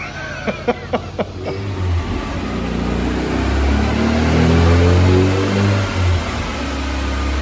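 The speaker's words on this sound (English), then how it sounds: "getting it set up in the dyno and it runs out of fuel" A Mazda MX-5 engine on a dyno, a few sharp knocks at the start, then a steady, loud low hum with some wavering as the engine runs short of fuel.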